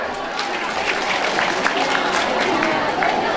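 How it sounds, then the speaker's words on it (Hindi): A crowd applauding at an award presentation during an Asha workers' gathering, a steady, dense patter of many hands clapping at once, with voices mixed in throughout. "ताली बजाते हैं"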